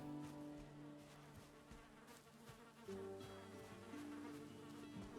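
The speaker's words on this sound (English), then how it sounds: "Oh, I hear bees." Bees buzz in the survival video game Valheim, a steady, droning hum with shifting pitches that overlap, fairly close and continuous, heard alone without talk.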